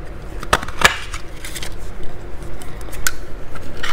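A 1.5 inch circle punch cuts through stamped cardstock, giving a few sharp clicks and crunches close up over quiet handling rustle.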